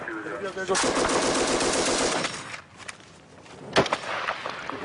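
Bursts of sporadic automatic gunfire from a building during a battle in Marjah, Afghanistan, loud rapid volleys filling the first seconds, then quieter scattered shots and one sharp crack near the end.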